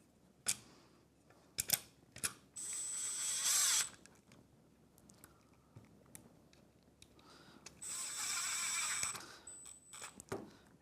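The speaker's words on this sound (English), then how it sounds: "get this all lined up, run my screws in" Power drill driving screws while fitting a mortise lock on a door, short bursts of whirring at a distance, separated by quiet pauses and small handling clicks.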